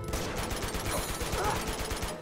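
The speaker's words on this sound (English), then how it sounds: "Where are we getting shot from?" Rapid automatic gunfire rattles in dense bursts during a firefight in the video game Uncharted 2: Among Thieves, loud and sustained with a faint voice underneath.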